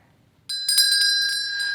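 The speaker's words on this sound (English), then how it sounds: "After I ring the bell, let's all say Honeybell together." A hand bell rings out bright and loud at a children's ministry show, one sharp strike followed by a sustained shimmering ring that keeps sounding to the end, with no voices over it.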